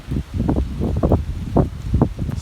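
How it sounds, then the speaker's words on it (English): Strong gusting wind outdoors batters the microphone in low, irregular rumbling bursts, loud and close, with no voices present. "it is just too friggin' windy today"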